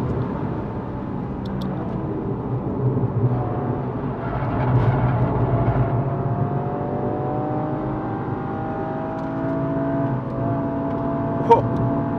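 A 2022 Toyota GR Yaris accelerates hard on a race circuit, heard from inside the car. The engine drone rises and falls through the gears, loud and steady, with traction control active.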